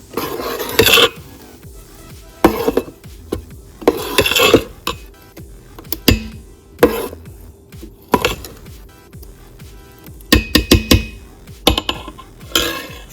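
Homemade rice and methi idli dosa batter stirred in a pot with a spoon, giving irregular bursts of scraping and clinking against the metal between quiet pauses.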